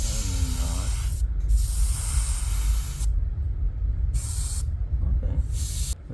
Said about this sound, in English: I'm gonna do a full spray